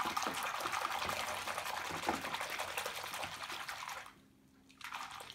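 Soap is swished around in soft water, giving a steady close splashing and sloshing that fades briefly before resuming.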